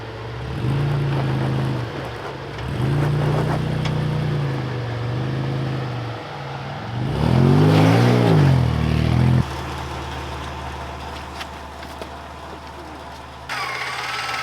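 A Land Rover Discovery 2 climbs metre-high rock steps on an off-road coastal track. The engine drones steadily, then revs hard on the climb around the middle before easing back to a low idle.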